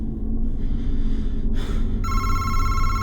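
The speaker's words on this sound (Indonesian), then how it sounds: "Ada telepon guys." A telephone rings with a bright electronic tone that starts partway through and holds steady, over a loud low rumble and a brief breathy sound just before.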